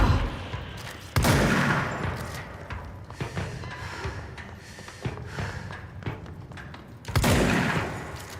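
Gunfire in a first-person video game, several loud shots and bursts at irregular intervals, with heavy blasts near the start and again toward the end amid busy game action.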